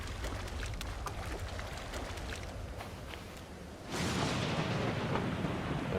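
A thunderstorm rolls over the open sea in the survival game Stranded Deep: dense, hissing rain with a low rumble underneath that swells noticeably louder partway through.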